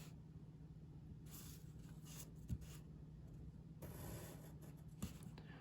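Graphite pencil strokes drawn along a ruler for a two-point perspective castle drawing, quiet scratchy scraping in several short bursts, with faint taps between strokes.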